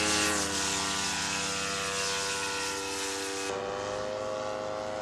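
A small ultralight aircraft powered by a noisy 20-horsepower snowmobile engine drones steadily and loudly throughout, a buzzing engine tone with a slight pitch shift partway through.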